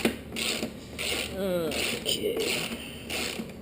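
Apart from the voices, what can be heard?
socket wrench ratcheting on a motorcycle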